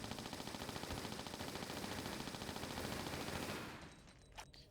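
Rapid automatic Uzi fire in the video game Tomb Raider: The Last Revelation, a loud continuous burst of machine-gun shots that stops near the end, followed by a brief quiet moment with a faint ring.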